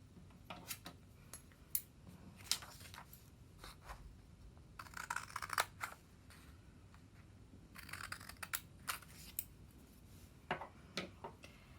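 Scissors snip through folded layers of paper at the fold in a pop-up paper sculpting craft, giving a series of faint, close, irregular crisp clicks and short cuts spread over several seconds, with no talking.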